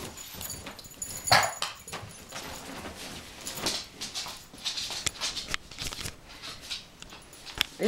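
Two dogs play together over a shared toy on a couch, giving scattered scuffling, soft thumps and brief rustles at close range, with a few sharper bursts and no barking or talk.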